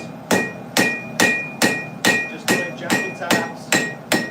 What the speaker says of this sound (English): I want the hammer work in there, but I don't want it too aggressive.